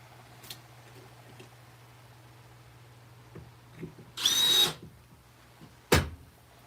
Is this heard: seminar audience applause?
no